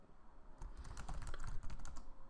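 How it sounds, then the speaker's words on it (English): A run of rapid key presses on a computer keyboard clatters nearby, a dense burst of clicks following a short quiet lead-in. "If I hit insert on the keyboard,"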